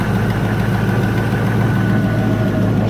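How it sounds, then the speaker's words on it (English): A 1994 Range Rover engine idling with a ticking exhaust manifold, a steady low rumble close by with a faint regular tick riding over it, no talking. "There's the tick from the exhaust"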